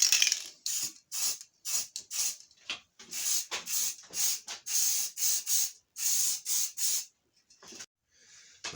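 Aerosol spray paint applying a black coat to model parts mounted on drawing pins, a series of short close hissing bursts separated by brief pauses.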